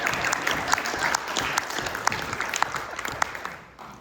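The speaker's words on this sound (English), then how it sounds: "let's give a round of applause to my beautiful assistant." An audience at a chamber of commerce luncheon applauds with steady, dense clapping from many hands that carries on for about four seconds and then tapers off at the end.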